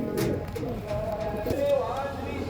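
Top-quality pigeons from Vijayanagar, Andhra Pradesh, coo and call nearby while someone talks over them, with a higher whistling tone rising briefly in the middle.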